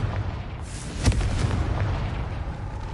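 A fiery Confringo blast cast in Hogwarts Legacy, a single sharp boom near the middle that rolls out into a rumbling, noisy game soundscape with no talk.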